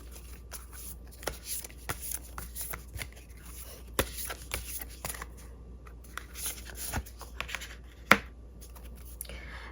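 Tarot cards shuffled and drawn by hand, giving soft rustling riffles with scattered crisp snaps and flicks, close and fairly quiet, one sharper slap near the end.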